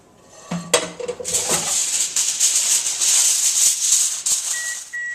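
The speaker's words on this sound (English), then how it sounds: "we're going to cover our peppers now and pop them in the oven" A pan of Italian stuffed green peppers is covered for the oven: a few close metallic clanks and clinks of the pan, then a sustained bright crinkly rustle that continues to the end.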